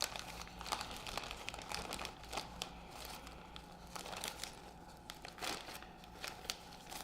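Quiet crinkling and rustling of a package being handled while repairing a window screen, irregular soft plastic crackles and scrapes close by, with no voice.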